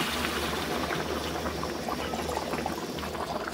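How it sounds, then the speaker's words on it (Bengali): Hot water poured into a pan of simmering shrimp and jackfruit curry, a steady bubbling, rushing liquid sound that stays even and close throughout. "এখন আমি আগের থেকে গরম জল করে রেখেছিলাম, সেটা দিয়ে দেব"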